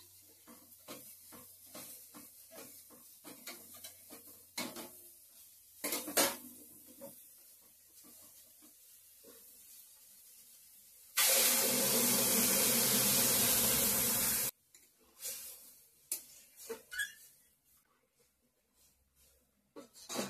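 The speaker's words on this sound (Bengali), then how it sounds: "ফোড়নে সজনাটা দিয়ে একটু ভাজছি" Moringa drumsticks fry in a spiced tempering of bay leaf, onion and five-spice seeds, with soft stirring scrapes and clinks. A loud, sustained sizzle bursts out for about three seconds in the middle.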